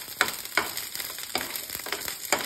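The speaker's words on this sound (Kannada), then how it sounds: "ಎಣ್ಣೆಗೆ ಈರುಳ್ಳಿನ ಹಾಕ್ತಾ ಇದ್ದೀನಿ ಮತ್ತೆ ಖಾರಕ್ಕೆ ಬೇಕಾಗಿರೋಷ್ಟು ಹಸಿಮೆಣಸಿನ್ಕಾಯಿ" Onions and green chillies frying in oil in a home kitchen while cooking chicken fry, a steady sizzle punctuated by several sharp crackling bursts as the pan is stirred, close and with no talk.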